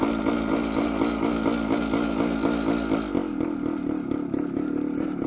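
A 1973 Suzuki TS250 Savage two-stroke motorcycle engine runs close and loud, a steady rapid pulsing idle that shifts to a rougher, lower chug partway through, with no talk.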